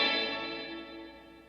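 A Boss RV-200 reverb pedal in slow verb mode lets a guitar chord bloom into a long, smooth shimmering tail that decays gradually over a second and a half, alone with no talk.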